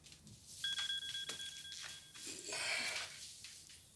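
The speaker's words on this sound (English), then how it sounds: "I set a few alerts on my phone." A smartphone alert chimes in a quiet room, a steady two-tone electronic beep held for about a second and a half, followed by faint rustling.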